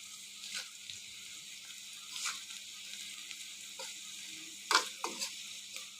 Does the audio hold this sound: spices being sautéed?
yes